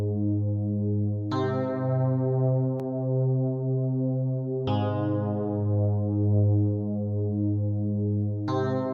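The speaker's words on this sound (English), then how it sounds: "Actually a synth." A deep synth bass in a beat plays long sustained notes, each struck sharply and then held with a slowly wavering hum, three attacks spread over several seconds, alone and fairly quiet.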